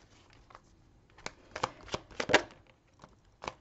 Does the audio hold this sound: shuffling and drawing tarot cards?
yes